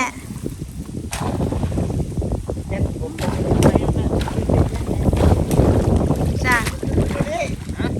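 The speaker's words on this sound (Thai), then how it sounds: "เนี่ยลมดังแท้" Strong wind buffets the microphone out on a pond during a fishing trip, a loud, gusty rush that lasts throughout while people talk over it.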